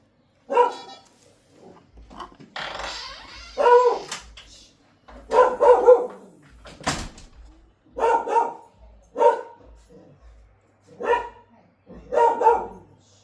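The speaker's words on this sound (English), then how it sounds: "somebody must be out front, because my dog is just going wacko right now." A dog barks repeatedly indoors at someone out front of the house, sharp loud barks in irregular bursts with short pauses and a few yips.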